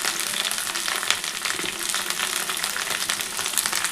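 Potatoes and mussels fry lightly in a pan, giving a close, steady, dense sizzle and crackle with no voices.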